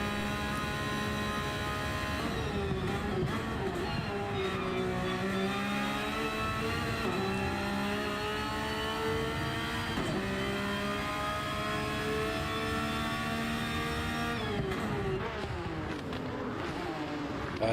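A Ferrari race car engine in a racing video game on the Bathurst circuit, revving high and shifting through gears with rising and falling pitch, steady and prominent, accompanied by the whine of other cars.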